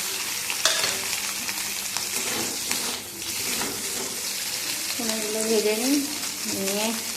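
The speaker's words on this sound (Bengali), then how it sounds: "চলো রাইসটা নামিয়ে নিই এবার এটা তরকারিটা বসাই এই যে পনিরগুলো ভেজে নিই" Paneer frying in a pan crackles with a steady sizzle under stirring and clatter, while a tap or water runs nearby and brief tonal sounds appear near the end.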